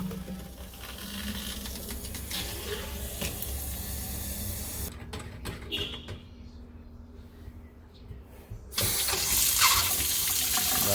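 Water runs steadily from a newly installed faucet with its aerator removed, a continuous rushing splash into the sink that briefly thins out midway and then surges louder again toward the end.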